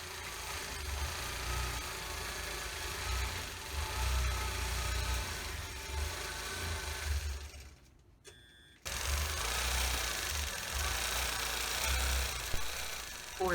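A domestic sewing machine hums continuously through free motion quilting of flower motifs, pausing for about a second before the steady stitching drone resumes.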